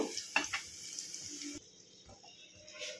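A soft sizzle of onions frying in very hot oil, louder at first and then fading to a quiet hiss with light stirring taps.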